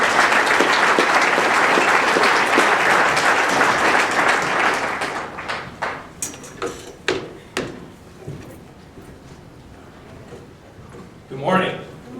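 Loud, dense applause from an audience welcoming someone to the stage, fading after about five seconds into scattered claps, thumps and stage noises, with a few voices.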